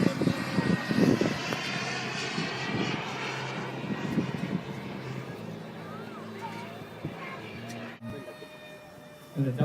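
Radio-controlled model airplane flying at a 2011 model airplane show, its engine whining and droning at varying distance with pitch shifts as it passes, a voice commentating over it.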